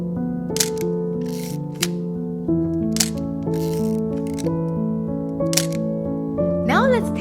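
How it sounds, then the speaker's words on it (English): A Nikon FM2 film camera's advance lever is cranked repeatedly, giving crisp mechanical ratcheting clicks about once every second or so over steady narration. "you want to keep advance the film until you see number 1 shows up in this frame counter window"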